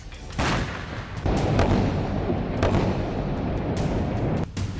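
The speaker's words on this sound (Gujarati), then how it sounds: "ઇઝરાયેલે હમાસના અંડરગ્રાઉન્ડ મેટ્રો કહેવાતી સુરંગ પર બોમ્બમારો કર્યો." Israeli bombing of Hamas underground tunnels in Gaza, a series of heavy booming blasts that merge into continuous loud rumbling, with sharp bursts recurring across the few seconds and no talk.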